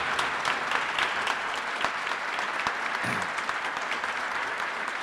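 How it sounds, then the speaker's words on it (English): An audience at the Kentucky Teacher of the Year award ceremony gives the winners a sustained round of applause, many hands clapping steadily and close, with a few sharper claps standing out. "Let's give them another round of applause."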